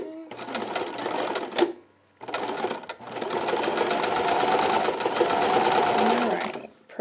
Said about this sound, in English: we're going to go back to the sewing machine